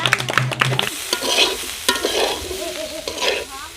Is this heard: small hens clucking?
no